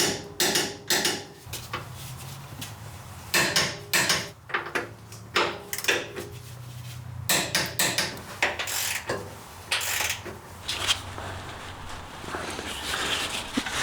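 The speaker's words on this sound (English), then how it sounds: "We are going to now torque down all of the bolts." A ratchet clicks in repeated short bursts while steering rack bolts on a first-generation Toyota Sequoia are torqued down, with metallic clanks and tool handling between the close, sharp runs of pawl ticks.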